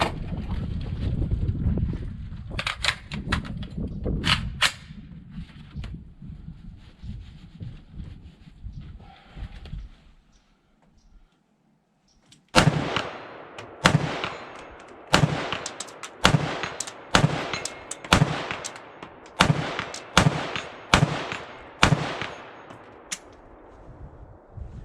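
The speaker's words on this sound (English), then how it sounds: "we'll go ahead and take some shots at that 100-yard plate" Rifle shots from a Foxtrot Mike FM-15 side-folding rifle fire at a 100-yard steel plate outdoors. An early cluster is followed by a pause, then a steady run of about a dozen loud, sharp cracks with wind noise behind.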